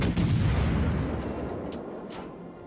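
Friant cruiser main guns in a naval warship video game fire at an aircraft carrier, one heavy booming salvo that rolls and slowly fades over a couple of seconds.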